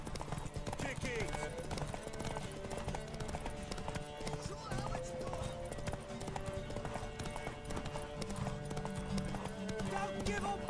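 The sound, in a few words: horse galloping, from a video game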